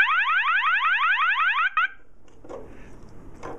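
A MAEH model fire alarm sounder strobe sounds with a loud, rapid repeating upward whoop, like a siren sweep, for almost two seconds, then cuts off abruptly, leaving quiet room noise.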